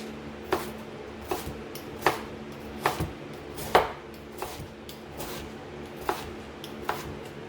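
Fruit is diced with a knife on a cutting board for a watermelon pizza, about a dozen crisp chopping knocks at an uneven, steady pace, close and with no talking.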